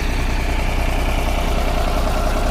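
A tractor engine drones loudly and continuously at a steady throb, close by, while the machine reverses to pull old coconut stumps from a field.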